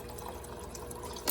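Water gushing from a Whirlpool refrigerator dispenser after a filter change, with air being purged from the line: a steady, continuous pour that swells into a brief louder splash near the end.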